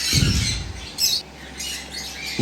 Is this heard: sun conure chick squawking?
yes